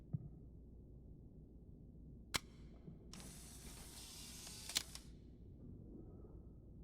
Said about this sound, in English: Let me take a picture of this.